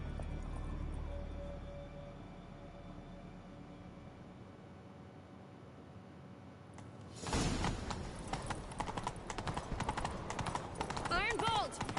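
Horses galloping in a chase within a video game, rapid hoofbeats kicking in halfway through after a low rumbling hum, loud and dense with voices shouting over the pounding.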